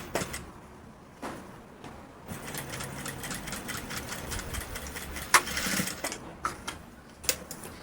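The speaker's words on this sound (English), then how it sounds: "I will just then trace that line and then stitch on it." A sewing machine stitches a welt pocket in a steady mechanical run, pausing briefly between short bursts of rapid, even needle strokes, close and alone.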